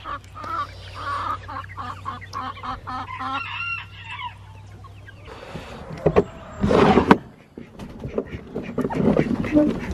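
Chickens cluck and squawk nearby in uneven bursts, with a honking call mixed in and someone talking partway through.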